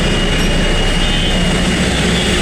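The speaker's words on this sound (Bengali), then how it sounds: "ট্রেন খুব কাছাকাছি চলে এসছে" A train nears the No. 2 level crossing by Narayanganj railway station in Bangladesh, producing a loud, unbroken roar of rolling wheels and engine close by that holds steady throughout, with no talking.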